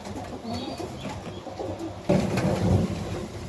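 Tippler and other pigeons coo softly inside a loft on a windy day, low rounded calls repeating close by over a faint rustling background.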